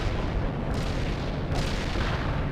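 A bomb detonates in the strategy game World in Conflict, a loud continuous roaring blast of broadband noise with a heavy low end, sustained without pause across the whole moment.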